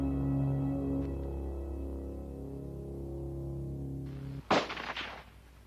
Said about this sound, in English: shoots twice, hitting the wildebeest in the lungs